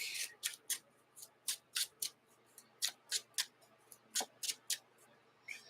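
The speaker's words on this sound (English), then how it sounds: "Shuffle the deck." A rapid series of crisp papery riffles and snaps from a Marvel Champions card deck, bursts of card flicking repeated over several seconds, close and fairly quiet with no talking.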